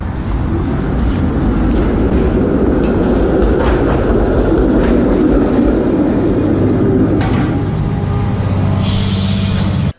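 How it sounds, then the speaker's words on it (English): A loud CLRV streetcar runs steadily, its motor droning with rhythmic clicking and buzzing, ending in a sharp hiss near the close. "The CLRV has a relatively loud engine"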